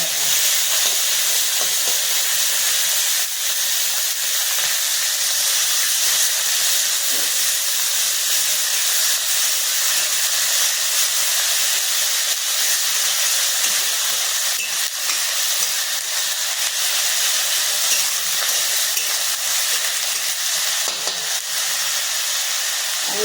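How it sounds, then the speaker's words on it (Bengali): Onions dropped into hot oil tempered with panch phoron sizzle while rui posto, a Bengali fish dish, is being cooked, a loud continuous frying hiss that runs steadily for the whole stretch. "এর মধ্যে দিয়ে দিচ্ছি আমি পেঁয়াজ"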